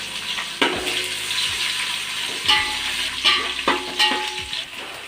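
Chilies, mustard seeds, cumin and garlic sizzle in hot oil as a tempering for sambar, a steady frying hiss broken by several sharp clinks and pops from the pan.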